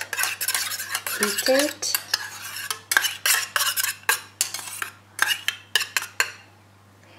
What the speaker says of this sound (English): So gently mix the aloe vera that you've just